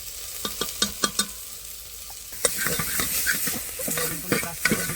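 Turmeric goes into a sizzling pan of mutton masala cooked outdoors at a forest campsite. A few sharp spoon scrapes come first, then the frying flares into a louder sizzle under continued stirring.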